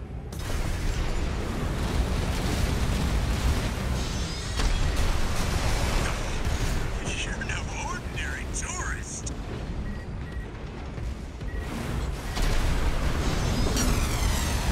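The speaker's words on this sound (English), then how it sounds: "Oh, it's just a point-blank cannon shot" A point-blank cannon blast from a mech in the video game Armored Core VI: heavy, booming explosive impacts rise from a dense, continuous bed of mechanical clatter and combat noise, with voices running through the action.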